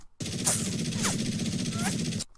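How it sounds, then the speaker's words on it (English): Three sharp bullet whizzes streak past over a dense rattle of rapid gunfire, each a quick descending zip, loud and close. "the sound of bullets flying through the air and not hitting anything"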